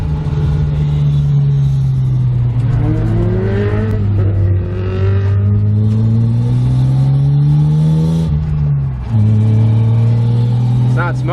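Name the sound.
car engine revving while downshifting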